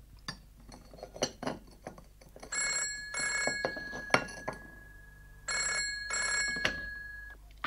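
Office telephone in a physics department ringing in repeated bursts of bright electronic trills, with clinks of cups and cutlery from tea being made nearby before the rings start.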